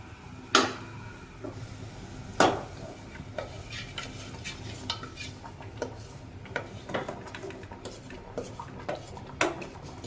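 Turmeric and chili tempering going into dal while the Sindhi dal pakwan is cooked: metal utensils clank against pots at irregular intervals, several sharper knocks standing out among a faint sizzle and stirring.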